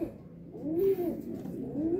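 Racing pigeons cooing at a derby loft in Ilagan, Isabela, with low, wavering throaty calls rising and falling close by over a steady background hum.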